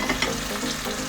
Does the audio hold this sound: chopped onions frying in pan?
yes